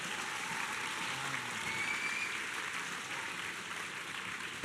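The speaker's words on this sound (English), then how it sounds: "let's give a big round of applause again to Mike and Ash" Steady applause from an audience after a pair of talks at a speaker event, a broad, even wash of clapping holding across the whole span at moderate volume, with no speech over it.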